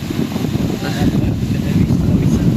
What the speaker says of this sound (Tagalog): Sobrang lakas ng hangin, tanghaling tapat.